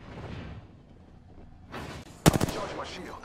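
Gunfire in the battle royale game Apex Legends: after a quiet stretch, a short burst of several loud, sharp shots rings out close by, with faint voices in the background.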